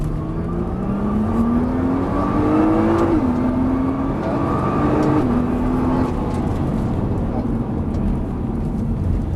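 A Nissan GT-R engine accelerating on a circuit at Dreux, loud and close, its rising tone climbing through two gear shifts with brief drops between, a continuous strained roar throughout.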